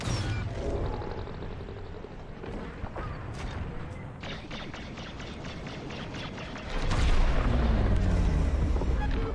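Turrets blown apart in a Star Wars Squadrons space fleet battle: deep booming blasts and rapid mechanical weapon fire, with a heavier rumbling explosion swelling near the end.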